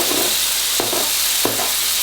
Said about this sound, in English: You get all that and you put it in your pan